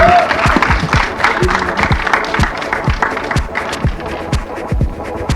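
Applause from a live audience at a film trailer launch event for the movie HIT: The First Case, loud dense clapping filling the hall steadily, with a brief voice at the start.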